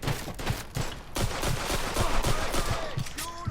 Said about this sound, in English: I didn't know they was shooting